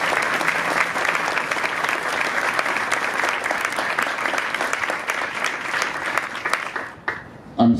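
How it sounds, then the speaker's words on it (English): A pavilion dedication audience breaks into steady, dense applause that holds loud for about seven seconds, then thins out and ends with a final burst. "Big round of applause."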